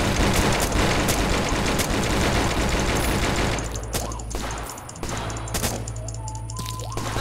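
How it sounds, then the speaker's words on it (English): Bombs and explosions crash in a chaotic video game, a dense barrage of booming blasts and rapid gunfire-like bursts that roars loudly through the first half, then thins into scattered hits over a lower rumbling background. "Fucking bombs!"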